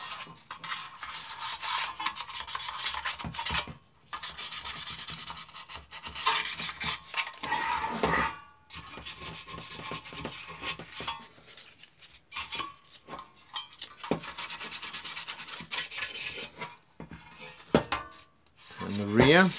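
Hand sanding of a locomotive tender with fine 400 grit paper, a steady close rasping rub in long continuous passes with brief pauses between strokes, no voices.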